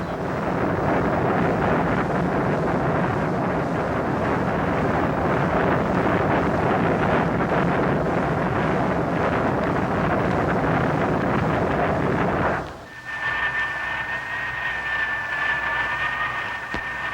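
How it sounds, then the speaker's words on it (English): Curtiss-Wright rocket engine of the X-2 plane firing in a ground test, a loud continuous roaring rush that cuts off abruptly near the end, leaving a fainter hum with a thin whine. "The X-2's rocket engine is ground tested before every flight."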